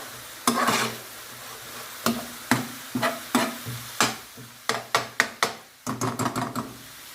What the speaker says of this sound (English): Just give it an occasional stir.